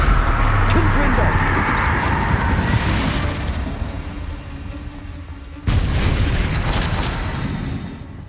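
A Confringo blasting spell explodes in Hogwarts Legacy, booming blasts over a dense rumble that cut off abruptly and then burst in again, loud and near, with a shouted spell voice mixed in.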